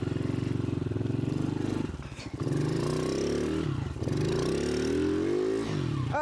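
A dirt bike engine revs hard near the rev limiter in third gear with the rear tire spinning, making a loud, steady, close-up buzz that dips briefly twice before climbing again.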